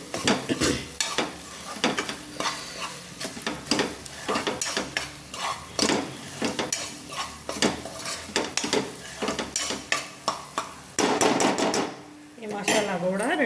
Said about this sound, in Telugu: ఇలా వేసుకొని మళ్ళీ మిక్స్ చేసుకుంటూ ఫ్రై చేసుకోవాలి